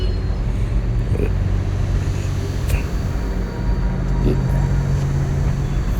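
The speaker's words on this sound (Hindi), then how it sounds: "तो अब लगता है कि सिग्नल हरा हो गया है तो ट्रैफिक चलना शुरू हो गया है।" Steady road traffic on a Delhi street near Shadipur metro station, moving off after a green signal on a hot summer drive, a continuous low engine rumble and road noise with faint passing vehicles and occasional horn-like tones throughout.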